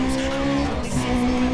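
A Lotus Elise in Need For Speed Undercover roars at full speed, its steady high engine whine running loud and unbroken, with faint tire noise underneath.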